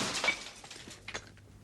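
Glass shatters in a 1975 period drama set in Cornwall. A close crash is followed by a spray of tinkling fragments that quickly fade, with no voices.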